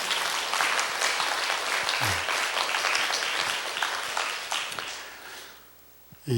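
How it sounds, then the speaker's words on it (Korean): Sustained applause from a large church congregation during a Sunday service, steady and full for several seconds before tapering off near the end. "박수로 감사를 표현해 보시겠어요?"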